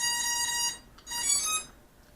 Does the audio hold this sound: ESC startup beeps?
yes